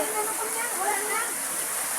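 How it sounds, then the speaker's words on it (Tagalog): Heavy rain pours down during a deep flood, a dense steady hiss that fills the whole clip like a waterfall, loud and close, with no clear words over it. "Grabe ang ulan dito, guys."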